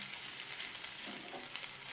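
Hearts of palm fry in a pan with a steady, even sizzle that holds at a constant level for the whole short stretch, with no voice over it.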